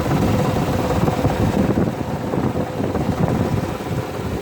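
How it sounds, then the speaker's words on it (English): Engine of a 2005 Toyota with 234,000 miles idling with a suspected knock, a steady low rumble with faint rhythmic ticking, close and continuous with no talk. "And what we got going on here is I got a little bit of an engine knock."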